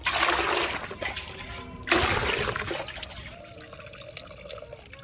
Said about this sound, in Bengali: এবার এই মাছের জলটা দিয়ে নিই কিছুটা জল মিশিয়ে নেব